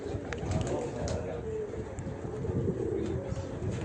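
Pigeons coo steadily in a crowded loft, with soft overlapping calls over a constant background murmur and people talking nearby.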